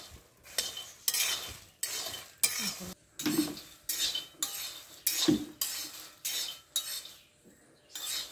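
Anjili wild jackfruit seeds roast in a pan, a spoon stirring them in steady, regular strokes about once a second, each pass a soft scraping rattle with faint clinks, close and quiet with no talk.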